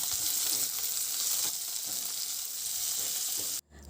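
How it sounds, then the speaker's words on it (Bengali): Long-cut eggplant slices frying in hot oil with a little salt and turmeric, a loud continuous sizzle with occasional stirring scrapes that cuts off sharply near the end. "সামান্য একটু নুন আর হলুদ গুঁড়ো দিয়ে বেগুনগুলোকে বেশ লালচে করে একটু ভেজে নিতে হবে"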